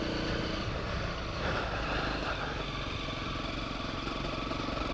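A Honda CRF250L trail motorcycle rides a dry, dusty green lane on chunky tyres, its single-cylinder engine droning steadily and loudly at close range throughout, with a slight surge partway through.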